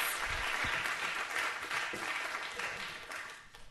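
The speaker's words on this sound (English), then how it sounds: "Thank you very much for the round of applause" Lecture audience at the California College of Arts in San Francisco gives a warm round of applause, steady clapping that thins and fades toward the end.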